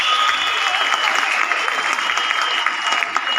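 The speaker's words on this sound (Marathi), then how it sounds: "जोरात टाळ्या अजून एकदा व्हायला पाहिजे" Sustained, loud audience applause at a Lokmat Sakhi Manch women's club event in Solapur, a dense even wash of clapping with crowd noise, no talk over it.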